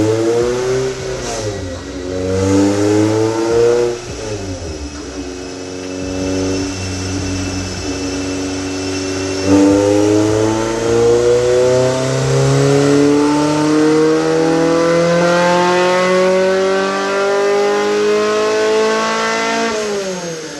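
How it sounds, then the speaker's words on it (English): A Toyota MR2 Spyder engine on a dyno, loud and close, revs up through its range in long rising sweeps with brief drops between pulls and no talking over it. "he's going to like run the car. He's going to go through the rev range or whatever."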